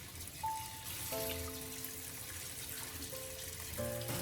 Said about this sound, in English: Rinse them with water and add a little white vinegar and salt.